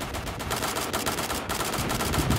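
An FN57 pistol in Battlefield 4 fires in a rapid, unbroken stream of shots, loud and close, with the crack of each round blurring into the next for the whole stretch.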